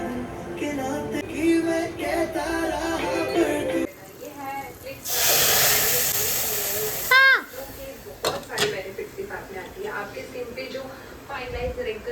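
A loud, steady hiss of steam bursts out for about two seconds while cooking, surrounded by kitchen clatter and a voice talking before and after.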